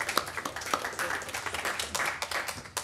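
An audience at a game developers' meetup applauds steadily, a dense patter of many hands clapping at moderate distance for a few seconds, with no voices standing out.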